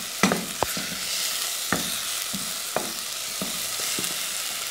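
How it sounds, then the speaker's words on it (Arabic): Leftover meat frying in a pan sizzles steadily and loudly up close, broken by several sharp scrapes and knocks from a stirring utensil at irregular intervals, with no talking. "نقلب كده"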